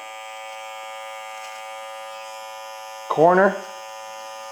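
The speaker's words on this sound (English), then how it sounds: "Now grabbing my trimmer very softly." Electric beard trimmer giving a steady, even buzz throughout, held close, with a brief spoken word cutting in near the end.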